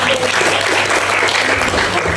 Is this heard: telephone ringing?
no